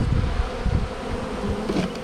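Wild bees taken from a cedar tree buzz in a dense, continuous, close swarm drone with no voices.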